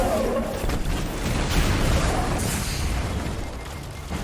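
Explosions rumble through a Destiny 2 firefight, a string of deep, muffled booms and bursts overlapping into a continuous low roar with no clear gaps.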